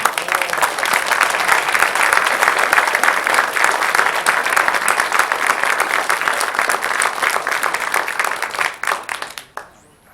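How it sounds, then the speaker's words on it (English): A school audience applauds JROTC instructors, loud, dense, sustained clapping for about nine seconds before it quickly dies away. "So please give them a round of applause."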